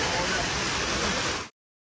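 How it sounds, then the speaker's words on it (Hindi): Glacier meltwater rushing down a mountain stream on the route toward Sheshnag during the Amarnath Yatra, a steady broadband roar of flowing water that holds constant and then cuts off abruptly. "ये यहाँ से ग्लेशियर्स मेल्ट हो रहे हैं और फिर नीचे आ रहा है"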